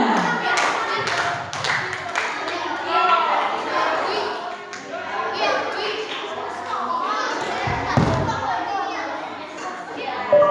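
An audience of schoolchildren at a primary school drama performance applauds the second performer, a continuous close burst of many hands clapping mixed with chatter and excited children's voices throughout.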